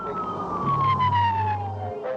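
A police car siren wails during a high-speed pursuit, one loud, slowly falling tone sweeping down over a low engine rumble.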